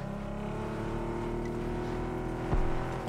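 A vehicle engine droning steadily while driving in PUBG, a continuous low rumbling hum with a brief louder bump near the end, no talking.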